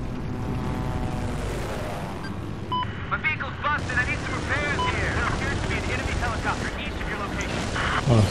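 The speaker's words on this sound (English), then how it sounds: "It's a chopper." A helicopter in the video game Battlefield 4 roars steadily under gunfire and explosions, with a busy game soundscape around it.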